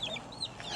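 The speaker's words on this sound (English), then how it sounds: "There's our little raised outside chicks." Young bantam-coop chicks raised outdoors cluck and peep in short, close bursts over a short stretch, with no voices.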